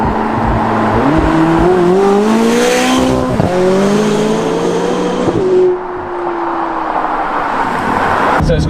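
A 2022 sports car's turbocharged engine accelerates hard through the gears in sport mode, loud and close, rising in pitch with a sharp drop at each shift before settling into a steady drone.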